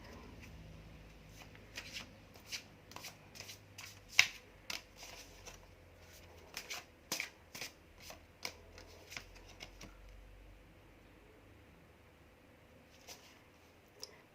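Tarot cards are shuffled in a quiet room, giving a series of soft riffling flicks and taps spread irregularly throughout, close and fairly faint, with no talking.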